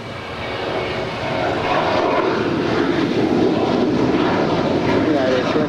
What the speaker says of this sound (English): And our next departure is United Airlines Flight 1496 heading to Denver, Colorado. It's the 737-800.